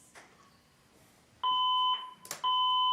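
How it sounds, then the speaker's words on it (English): A fire alarm goes off during a county commissioners' meeting, sounding as loud, steady electronic beeps or tones that start abruptly, pause briefly, then resume, with no talk over them. "Is this a fire alarm? Is that the fire alarm? It is."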